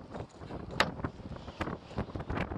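Strong wind gusting across a lake during spring bass fishing, a rough roaring wash that swells and buffets the microphone in uneven bursts, close and fairly loud with no voices.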